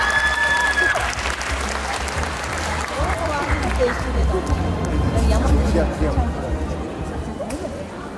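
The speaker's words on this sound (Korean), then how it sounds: "여러분들 축하의 박수 부탁드릴게요" An audience applauds at a multicultural music festival award ceremony, sustained clapping from a crowd with some murmuring and speech mixed in, fairly loud and steady throughout.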